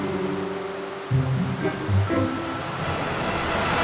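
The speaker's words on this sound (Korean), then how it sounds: "높은 파도에 그만 몸이 뒤집히고 말았습니다." High ocean waves wash over a beach where coconut crabs spawn: steady rushing surf fills the scene, with a few heavier swells breaking in between.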